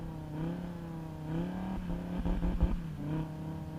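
Revving car engine picked up by a Lewitt large-diaphragm dynamic microphone, fairly low in level, with a steady low drone that swells into a few quick throttle blips near the end, and no voices.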